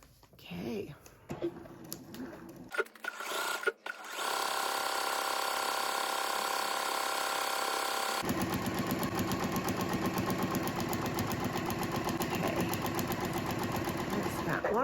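A sewing machine runs steadily for about ten seconds, stitching through quilt fabric for half-square triangles from a triangles-on-a-roll paper, after a few brief handling clicks and taps.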